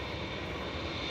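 A parked airliner at Manchester Airport running only its number two engine gives a steady, broad whine and roar, loud and unbroken over the brief moment.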